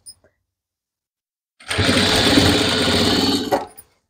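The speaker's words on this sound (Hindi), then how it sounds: "तो यहाँ से सिलाई स्टार्ट करेंगे, लैस को थोड़ा सा खींच के रखना है और दुपट्टे को नॉर्मल रख लेना है" A sewing machine stitches lace onto a dupatta in one steady, fast, loud mechanical whirr lasting about two seconds after a quiet start, then stops abruptly.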